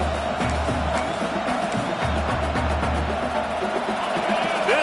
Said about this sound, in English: Crowd bringing the energy and noise early